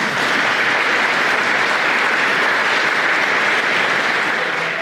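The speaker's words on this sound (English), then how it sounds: "I think we should give them a round of applause" A room full of people applauding loudly and continuously at an event on maritime trade, a dense wash of clapping with nothing else heard.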